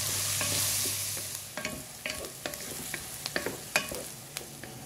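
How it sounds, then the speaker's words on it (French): Onions frying in a little oil in a pan, a steady sizzle that fades somewhat while a spoon scrapes and stirs in repeated close clicks and knocks. "Je commence donc par faire revenir mes oignons avec un peu d'huile."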